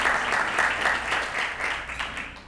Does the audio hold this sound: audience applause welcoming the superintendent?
yes